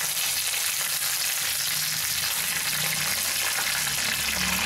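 Paneer and spices fry in hot oil for a paneer peas rice dish. A dense, even sizzle runs steadily and close for the whole stretch, with no voices.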